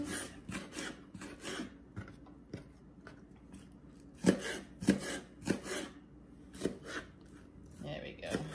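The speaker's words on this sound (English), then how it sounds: "Just finish cutting these onions up." A knife chops through onions on a cutting board in uneven, close thuds and scrapes, with louder strikes clustered midway as a person talks over the work.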